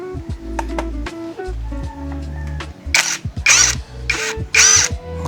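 A power tool working a brake pad bolt on a Triumph Trident 660 motorcycle, with several short mechanical whirring bursts and clicks close by, followed by louder broadband bursts near the end.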